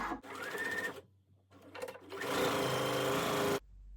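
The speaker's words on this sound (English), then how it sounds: "skip that central opening and start sewing again" A sewing machine stitching a seam on a midi skirt in short bursts, a close, loud mechanical whirring hum that starts and stops twice before a longer steady run, with no talking.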